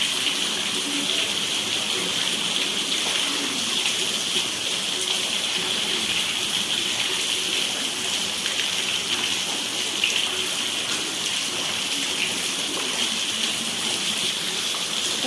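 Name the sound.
heavy rain falling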